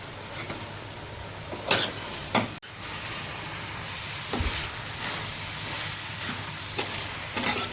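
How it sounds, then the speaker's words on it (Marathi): Chopped coriander and curry leaves get stirred into a dry cowpea pod stir-fry, giving a soft continuous sizzle with a few sharper scrapes and clanks of a spoon against the pan. "आता मी कोथिंबीर आणि कढीपत्ता कापून घेतलेला आहे ते टाकणार आहे"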